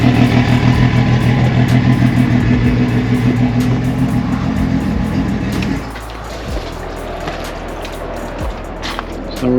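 A Yamaha 3.3-liter 250 hp four-stroke outboard engine runs steadily and loudly up close, its drone dropping slightly in level partway through and continuing alone without talk.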